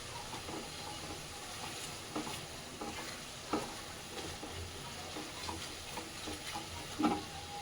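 Shola kochu (taro) frying in hot oil with a steady close sizzle and hiss, broken by occasional scraping stirs of a spatula in the pan, with no voices.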